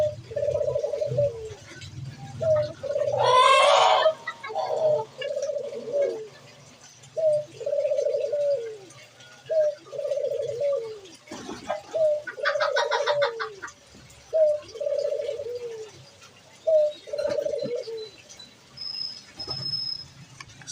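A pigeon and a spotted dove coo in repeated, evenly spaced phrases, moderately close and clear, with a brief louder bird call partway through and faint background noise.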